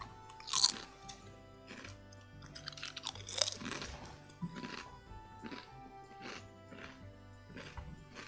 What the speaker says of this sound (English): I'm using this to eat the chips.